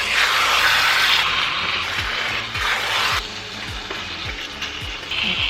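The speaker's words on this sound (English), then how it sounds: "I'm just going to give it another stir" Caribbean curry goat sizzles and fries in a pot while a spoon scrapes and stirs in repeated rhythmic strokes, close and steady with no talking.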